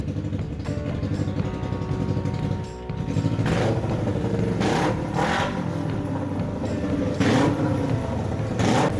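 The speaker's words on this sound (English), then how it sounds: "I fired up the engine." Kawasaki Ninja 250 motorcycle engine mounted in a homemade go-kart, running steadily and close with a rough, constant drone, with brief swells that could be light revs.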